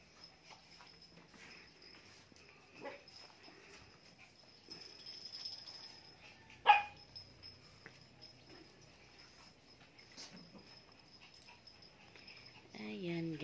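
Pet dogs make faint whimpers and soft whining in a quiet rural setting, with a short yelp midway and low panting, all faint and sporadic while a person speaks now and then.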